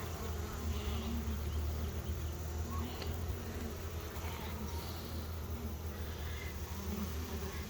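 Honeybee swarm buzzing steadily at an open hive full of newly drawn wonky comb, a dense continuous hum close to the microphone with no talk.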